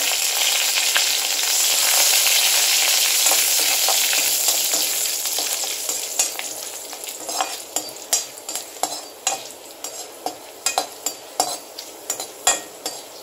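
Five small garlic cloves sizzle in hot oil and ghee with fennel seed and a bay leaf for raw jackfruit kurma, a loud steady frying hiss giving way to sharp rhythmic clinks of a spoon stirring the pan.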